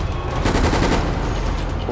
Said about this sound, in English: Who is up here shooting?